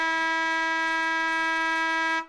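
A quarter-time siren at an amateur Australian rules football match blares one long, loud, steady harmonic tone for about two seconds before cutting off abruptly, with no talk over it.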